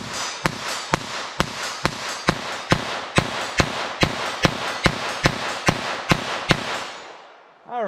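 A .22 LR rifle fires a rapid string of about sixteen sharp shots at a quick, fairly steady pace outdoors, each crack short and crisp with a little echo, no talking between them.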